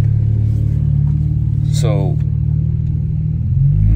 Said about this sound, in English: no weird misfires, no weird sputters, no weird anything. Quick startup.